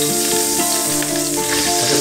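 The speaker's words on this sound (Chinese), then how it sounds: "先把茄子煎一下" Salted eggplant pan-fries in oil with a loud, dense, continuous sizzle and a soft stirring rustle, heard close and alone.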